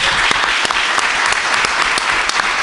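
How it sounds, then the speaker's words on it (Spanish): A crowd applauds loudly and continuously, dense clapping with a few sharper claps standing out, sustained throughout. "pido un gran aplauso para la compañera"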